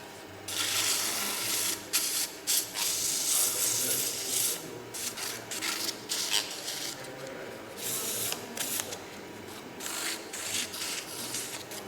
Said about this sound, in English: I'm going to clean it up with my sandpaper, reverse it, slow it.